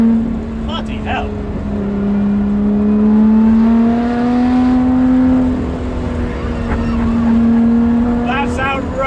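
Lotus Exige 430 Cup 'Type 49' engine accelerating hard on an open road, a loud rising engine note climbing through the gears with brief shift dips, heard from inside the car with passengers' voices and exclamations over it.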